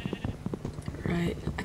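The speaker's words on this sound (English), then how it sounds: "I can hear a sheep" A sheep bleats in a Minecraft-style survival game, a short wavering cry rising over background game music and soft footstep clicks, with people talking over it.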